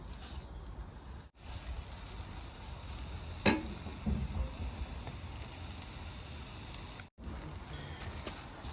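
English breakfast sausage meat frying in a cast iron pan gives a soft, steady sizzle and crackle throughout, quiet and close, with a brief sharp scrape or tap partway through.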